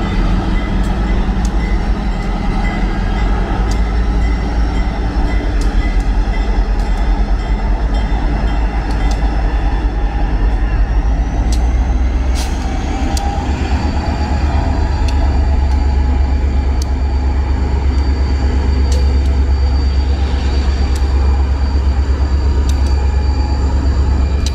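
Diesel locomotives roll past during an Iron Horse Rambles excursion with steam engine #2102, a loud, steady rumble with rail clatter and screeches that lasts throughout.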